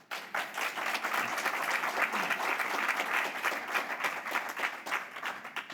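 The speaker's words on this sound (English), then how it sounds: "So I applaud you." Steady applause from an audience at a police commission commissioner appreciation event in Cleveland, dense clapping filling the room for several seconds without a break.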